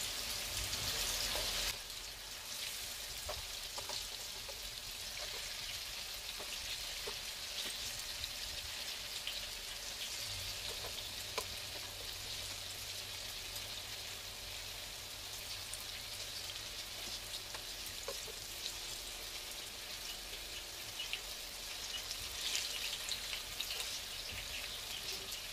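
Tofu fries in a pan with cabbage and tuna, making a soft, continuous crackling sizzle that holds steady throughout with no talking.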